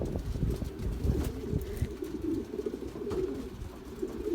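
Belgian racing pigeons coo softly in a loft, with low, overlapping murmuring coos and some rustling, close by and steady.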